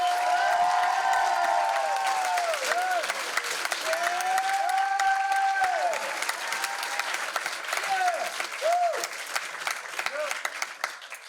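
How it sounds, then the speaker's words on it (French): At a secondary-school stage show, the audience gives four comedians a long round of applause, a broad wash of clapping with cheering and whooping voices rising above it. "C'était la dernière animation de nos 4 comédiens que l'on peut applaudir chaleureusement."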